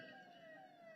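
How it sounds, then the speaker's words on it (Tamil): An ambulance siren wails steadily at a distance, a sustained rising-and-falling tone heard through street ambience during a protest march. "ஆம்புலன்ஸ்."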